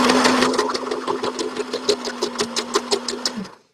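A domestic sewing machine back-stitches along a handle of a tie-dye patchwork shopping bag, a close, steady run of rapid needle thumps over a motor hum that stops abruptly near the end.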